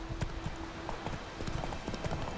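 Horse hooves clip-clop steadily in a video game, a close, busy rhythmic clatter of hoofbeats over ambient game sound with no talk.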